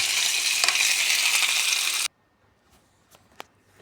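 Hot coals sizzle loudly and steadily to smoke Goan-style tandoori chicken, a dense hiss that cuts off abruptly, followed by near silence with a few faint clicks and taps.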